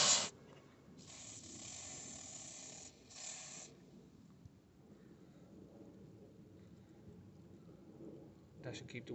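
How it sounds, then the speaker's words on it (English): Short bursts of white lithium grease aerosol spray hiss, a few seconds of steady spraying in separate blasts onto a car part, close up, with a faint rattle at the end. "And just spray it all on there."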